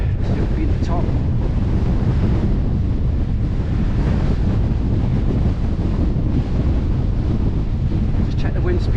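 Strong wind roars across a misty hill summit on a wintry walk up Hedgehope Hill, a loud, constant, buffeting rumble that batters the microphone the whole time.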